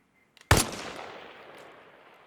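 A single sharp sniper rifle shot firing an FMJ round in Arma Reforger cracks loudly after a couple of faint clicks, then decays into a long fading echo.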